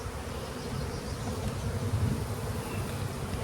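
Honey bees hum inside a hive as they build white wax on the combs, a close, steady drone that swells slightly midway and carries on without talk.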